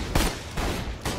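Sniper rifle headshot in the video game Borderlands The Pre-Sequel: a few loud, sharp gunshot blasts about half a second apart, each with a short ringing tail, and no voices.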